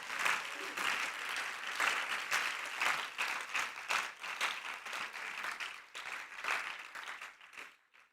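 A church congregation applauds during a missionary service, steady rhythmic clapping in surging waves that fades out near the end, fairly distant and soft.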